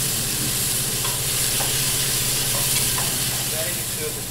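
Steady, loud sizzling of beetroot and garlic frying in a hot pot, a dense crackling hiss with occasional faint clinks of stirring, no talking.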